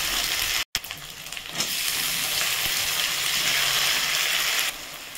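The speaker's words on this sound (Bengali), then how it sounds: "মাছটা ভাজছি" Prawns frying in a pan with ginger, tomato, chili powder, coriander, cumin and turmeric, a steady close sizzle and hiss with a brief break near the start, no talk.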